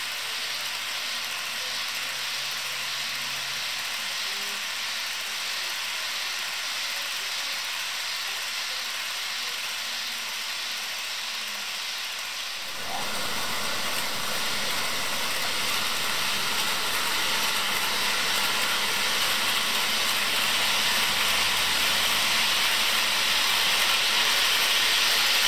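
An HO scale model freight train, a coal train, runs with a steady hiss and rumble that gets louder and fuller partway through as it comes closer, with no talk.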